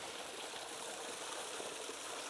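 Water spilling steadily through an outdoor water feature at a private, cozy luxury custom home in Hayden, Idaho, making a soft, even, continuous rush with no voices over it.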